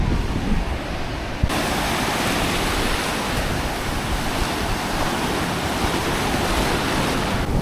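Ocean surf on a beach roars as a dense, continuous wash of breaking water, loud and close throughout, with a brief knock near the start.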